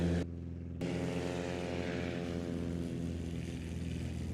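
A STOL propeller airplane runs its engine hard for takeoff at a Rocky Mountain STOL competition practice, a loud steady droning buzz with a rich harmonic hum, near and continuous without speech.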